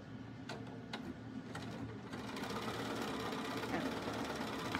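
A sewing machine runs steadily, stitching a quarter inch seam across quilted fabric for a journal cover, a fast mechanical whir and rhythmic needle clatter that builds to a constant hum, close by, with someone speaking over the start.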